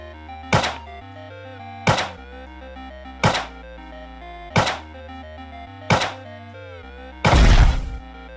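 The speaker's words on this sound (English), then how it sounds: "your explosions are too loud. Your lightning zapping is too loud." Explosions and lightning zaps from the Survival of Exon video game, five evenly spaced punchy blasts about every 1.3 seconds, each with a ringing tonal tail, followed by a longer, louder burst.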